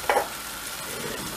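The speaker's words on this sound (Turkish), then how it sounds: "Böyle öteki pişenlerle, soğanlarla beraber bir güzel karıştırıyorum" A menemen mixture with onions cooking in a pan, a brief, steady frying hiss with a single scrape near the start.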